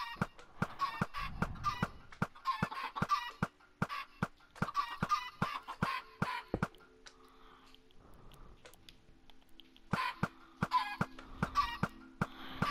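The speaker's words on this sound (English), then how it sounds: "Then a bunch of chickens should." Repeated clucking of Minecraft chickens with sharp percussive clicks and bursts of game sounds, fairly close and busy throughout.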